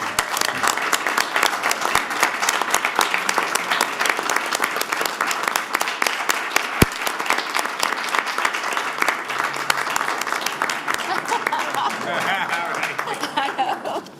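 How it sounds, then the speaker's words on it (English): Dense, sustained applause from an audience at a Charlotte city council business meeting, a steady wash of many hands clapping for the full stretch at a fairly loud, even level. "I think two recognitions like this in a day deserves a round of applause."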